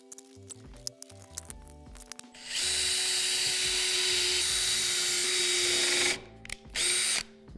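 A power drill drives screws to fit casters, whining loudly and steadily for several seconds at close range before stopping, followed by two shorter bursts; faint handling clicks come before it.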